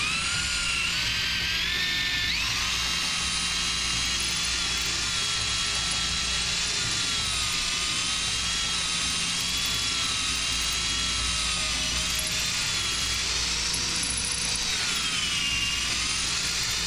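Power tool threading a half-inch workpiece, a steady high-pitched whine with a shifting pitch that runs without a break, close and loud, with no voices.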